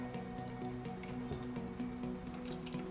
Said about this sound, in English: Fill the garden up with water until the float is on the same level with the lid and not higher.